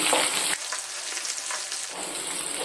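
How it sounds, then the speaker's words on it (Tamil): Shallots sauté in hot oil, giving a dense, continuous crackling sizzle close up that briefly drops and rises again, with no voices. "சின்ன வெங்காயத்தை எண்ணெயில் வதக்கிக்குவோம்"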